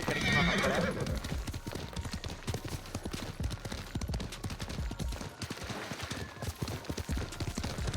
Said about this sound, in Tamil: அந்த குதிரையோட ஃபுட் ஸ்டெப்ஸும் சரி